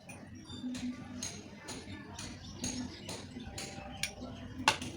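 Methi powder being stirred with water in a small bowl, a light series of spoon clinks and scrapes against the bowl, faint and close, with soft talking underneath.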